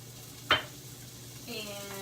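Garlic and shallot dropped into hot oil in a pan, one sharp sizzling hit followed by a low steady frying hiss, close and fairly quiet.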